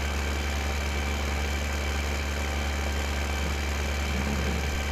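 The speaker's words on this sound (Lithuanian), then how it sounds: "Penkiolika tonų priekaba. Traktorius jaučia. Ganėtinai sunkiai. Tempia" Tractor engine in the video game Farming Simulator 2015 straining to haul a 15-tonne trailer, a steady loud low droning rumble that continues unchanged without pause.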